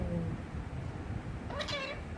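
A parrot gives a short, nasal cat-like meow near the end, imitating a cat, with a person's voice present at the start.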